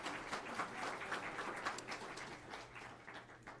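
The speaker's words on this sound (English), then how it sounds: "A round of applause for Mr. Westlow," Audience applause for a panel host at a fisheries and aquaculture committee hearing on offshore wind, a fairly quiet, steady wash of clapping that thins slightly toward the end.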